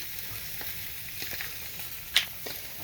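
Spam slices frying in a pan, a steady close sizzle with light crackles and one sharp louder pop partway through.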